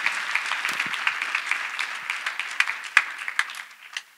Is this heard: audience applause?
yes